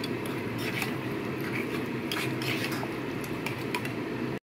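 Marinated mutton stirred and fried in curry gravy in a pot, with a dense, continuous wet sizzle and clinking of a metal spoon against the vessel throughout, close and fairly loud.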